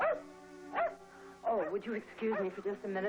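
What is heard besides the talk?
dog barking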